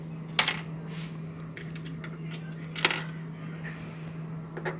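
A screwdriver tightens screws while an InFocus IN1 projector is put back together, giving a few sharp clicks and small metallic taps spaced apart over a steady low electrical hum, close and fairly quiet.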